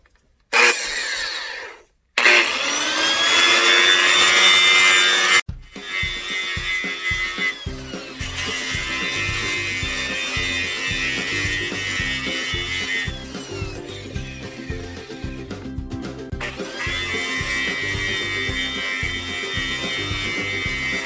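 A power tool cutting metal pieces for an upcycled fire pit, loud sustained grinding whine in long bursts separated by short pauses, close and without talk.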